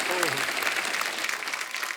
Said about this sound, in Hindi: एक बार राजू भाई के लिए जोरदार तालियां।